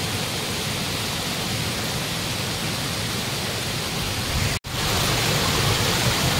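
Ladda waterfall pours in a constant broadband rush, close and loud, with one abrupt momentary dropout near the end before the roar resumes unchanged.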